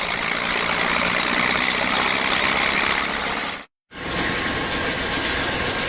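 An Amtrak P40 Genesis locomotive passes on a mountain line in 1996, heard as a loud, close, continuous roar of engine and wheels, with a brief dropout near the end before the rumble resumes.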